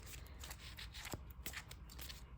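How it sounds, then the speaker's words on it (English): A deck of trading cards being shuffled by hand for a card game, a soft continuous riffling and flicking with a few sharper snaps, faint and close with no speech. "let's get our deck shuffled"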